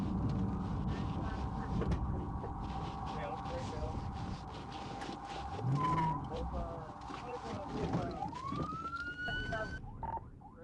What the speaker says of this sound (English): this driver lost control, crashed, and came to a stop